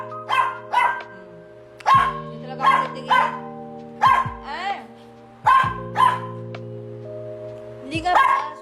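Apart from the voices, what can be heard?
dog barking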